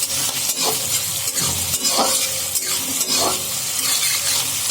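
Chopped onions fry in oil in a pan for a chole rajma curry, giving a steady close sizzle broken by repeated scraping stirs of a spoon against the pan.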